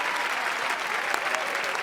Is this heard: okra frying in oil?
no